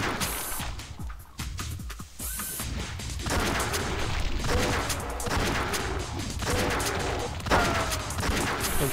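Dense, continuous gunfire and explosions in a Doom mod, a winter-themed map, with loud repeated shots and booms layered over a constant roaring game soundscape.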